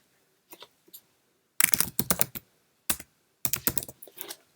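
Bursts of keystrokes on a computer keyboard while writing a message in a Microsoft Teams chat, three short clusters of quick clicking separated by pauses, close and clear with no talk.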